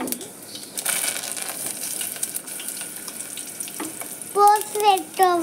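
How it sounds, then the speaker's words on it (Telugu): Oil frying in a pan for tomato chutney makes a crackly sizzle with scattered stirs and crinkles, and a voice briefly sounds near the end. "మళ్ళా పెంక మీద నూనె వేసి కొంచెం అది ఫ్రై కావాలి"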